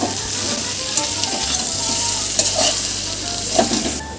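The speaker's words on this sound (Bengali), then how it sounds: "এবার আমি এগুলো দিয়ে কষাতে থাকবো" Potatoes with mustard seeds, red chili powder and Kashmiri chili powder sizzling steadily in a hot pan while being stirred and turned, a close, continuous frying hiss with occasional scrapes.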